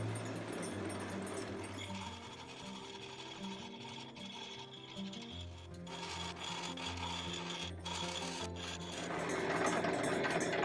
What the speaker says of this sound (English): I'm not positive how big of a grit this particular polisher is, so we're just going to give it a try